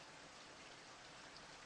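Steady, faint rain pours evenly in the video game Virche Evermore, a continuous soft hiss with no voices.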